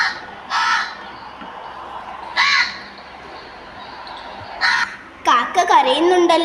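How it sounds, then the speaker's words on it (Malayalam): Cawing of crows in a kindergarten puppet show, heard as three short harsh bursts spaced a couple of seconds apart over a soft background, followed by a voice speaking. "കാക്ക കരയുന്നുണ്ടല്ലോ. എന്തിനാ മുത്തശ്ശി കാക്ക വെറുതെ കാ കാ എന്ന് കരയുന്നത്?"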